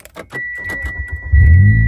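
A Mitsubishi Lancer EX engine starts by push-button: faint clicks and a short electronic tone, then the engine catches with a sudden low roar and settles into a steady idle.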